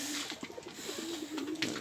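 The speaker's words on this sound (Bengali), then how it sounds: "এটা এভাবে বকে, এভাবে বকলে ভাববেন যে এটা পায়রা" A male pigeon coos in a low, throaty warble, a steady rolling call heard close over a faint hum, with no talking.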